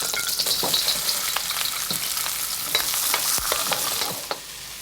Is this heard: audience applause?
no